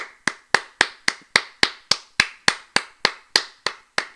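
A single person claps slowly and evenly, about fifteen sharp, close claps spaced roughly a quarter second apart, each ringing out alone against silence.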